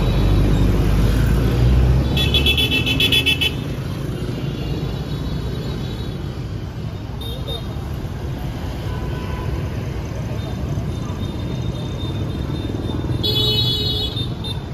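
Steady rumble of Hanoi street traffic with passing motorbikes and cars, with a couple of short horn toots breaking through near the start and end.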